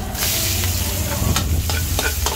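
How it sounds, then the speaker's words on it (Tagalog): Onions sizzle and fry in margarine in a pan for pork menudo, a steady loud hiss broken by a few sharp stirring scrapes. "Kasi masarap kasi yung ating luto na may margarine. Yan, brown na. Ilagay ulit natin yung sibuyas."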